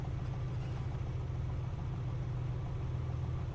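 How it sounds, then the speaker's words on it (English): Steady piston engine drone of an A2A Comanche aircraft in a flight simulator, a constant low hum with no breaks, heard alone and moderately loud. "Piston engine noise that I've heard."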